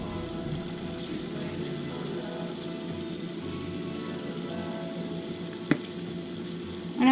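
Steak seasoned with salt and Oriental five spice sizzles in cooking oil in a pan, giving a faint, steady frying hiss close by with a brief clink near the end and no voices.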